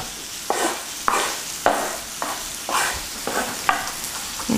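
Knife chopping garlic cloves into a fine mince on a cutting board for garlic bread, a run of eight or nine sharp, evenly spaced strikes about half a second apart, close and fairly clear with no talking.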